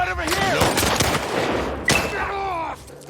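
Gunfire in The Last of Us Part II, a loud burst of rapid shots close by, with whining, pitched tones rising and falling over the top and a voice partly mixed in.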